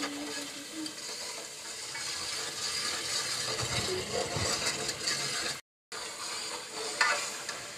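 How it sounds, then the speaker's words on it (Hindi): Ground coriander and turmeric spices frying in oil in a pan, a steady close sizzle with scraping stir strokes throughout and a brief dropout near the end. "इन सब मसालों को मैं अच्छी तरह से इसमें भून लूँगी।"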